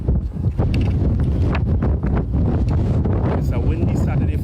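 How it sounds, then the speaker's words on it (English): Wind blowing hard across the open courtyard of Fort George on a gusty day, a loud, continuous buffeting roar with bursts against the microphone. It runs throughout with no clear talking. "It's a windy Saturday, folks."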